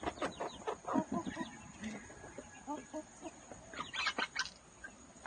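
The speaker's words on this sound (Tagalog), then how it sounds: "Nangingitlog na ba yan, Kubi?" A Silkie chicken clucks in a series of short, close calls, with soft voices talking nearby.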